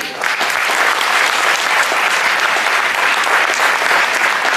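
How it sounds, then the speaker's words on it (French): A crowd applauds loudly for a gymnast at a community tournament event in Paris, producing a thick, sustained roar of clapping that stays even and continuous for over four seconds. "Je vous demande d'applaudir très fort Tania Kassamchenay."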